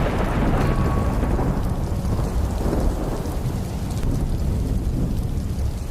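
Heavy rain pours down in a dense, continuous roar, with deep rumbles of thunder rolling underneath throughout.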